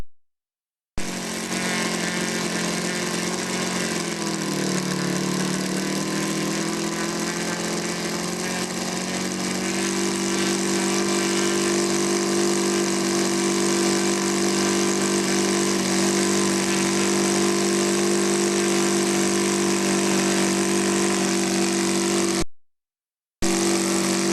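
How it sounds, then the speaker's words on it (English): A handmade five-cylinder radial engine on a large model aircraft runs steadily at high revs, a buzzing, droning roar with a slight dip in pitch early on, then cuts off briefly near the end. "while Dave Pape's sharp Kenner Sportster features a handmade 5-cylinder working radial engine."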